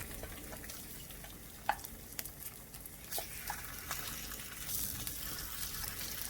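Slices of Bacon Grill, a SPAM-style luncheon meat, fry in a pan, making a quiet, continuous sizzle dotted with small pops and crackles, with no one talking.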